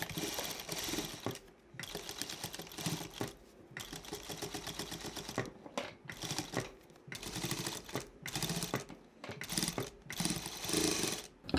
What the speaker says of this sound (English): I'm sewing on my industrial machine, so it's easy.